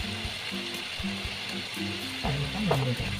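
Chicken curry masala paste with turmeric and salt sizzling as it is sautéed in a pan, a continuous frying hiss with scraping stirs and a voice speaking over it.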